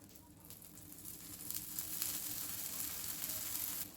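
Moong sprout dosa batter sizzling in oil on a hot pan, a steady close frying hiss with faint crackles that builds slightly louder partway through and holds to the end, with no voices.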